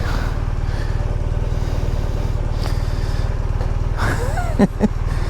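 A police motorcycle engine idles close by with a steady, rapid low throb, and some clatter and brief voices come through near the end.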